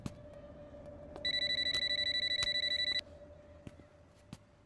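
An electronic telephone ring trills steadily for about two seconds, then stops, over a faint background hum with a few soft clicks.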